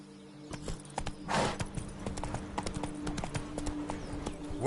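Roach, Geralt of Rivia's horse in The Witcher 3, trots with steady clip-clop hoofbeats close by, a brief snort or breath rising midway over a low in-game background hum.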